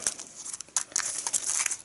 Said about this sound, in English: I will shuffle this huge deck of cards.